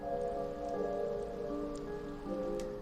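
Rain falling in an alley in Chaos;Child, a constant soft patter layered under sustained tonal background music, with a few faint drips.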